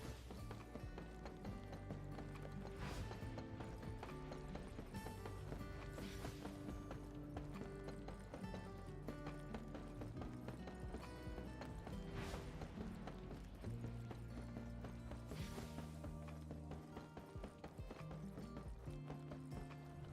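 Character footsteps in the video game Arknights: Endfield sound like horse hooves, a steady clip-clop running beneath loud, continuous game music.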